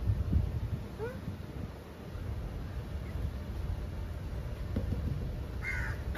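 Crow cawing in a garden, a few distant calls heard over steady outdoor background noise.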